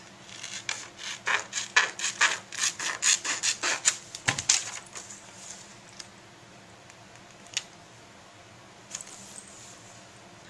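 Rubbing strokes of a burnishing tool pressing an image transfer onto an altered art book page, a rapid run of dry scratchy strokes for about five seconds, then a few isolated rubs and taps, close and fairly quiet.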